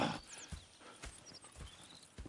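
Horse hooves in the video game Red Dead Redemption II clip-clop in a slow, steady rhythm of soft knocks, with a faint whinny and light background ambience, no speech.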